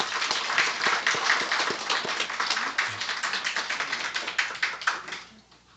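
A church congregation gives a warm round of applause to welcome a newcomer, dense, lively clapping from many hands that holds steady for about five seconds and then quickly dies away.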